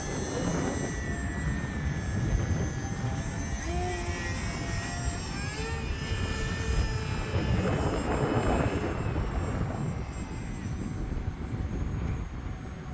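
A HobbyZone Aeroscout RC airplane on a 3S 2200 battery flies in gusty wind, its electric motor whining steadily with pitch shifts as the throttle changes, under a constant rush of wind buffeting.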